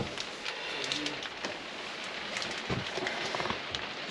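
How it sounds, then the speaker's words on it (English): A sudden downpour drums on a used motorhome, a continuous broadband hiss of rain speckled with sharper drop impacts, fairly close and steady throughout with no talking. "That rain was a bit sudden, wasn't it?"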